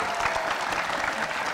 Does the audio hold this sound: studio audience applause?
yes